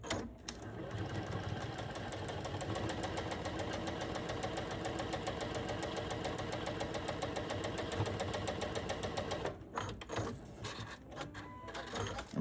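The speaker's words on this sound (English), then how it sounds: "We'll sew a 1/4 inch all the way down." A sewing machine runs steadily for about nine seconds, stitching a quarter-inch seam along a quilt block with a fast, even mechanical whir, then stops and leaves a few faint clicks.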